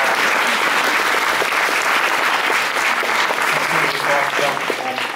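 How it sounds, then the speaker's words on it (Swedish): Studio audience applause in a radio studio, a dense, steady wash of clapping that fills the whole stretch at close range, with faint voices underneath. "Och jag tycker att det är värt en stor applåd."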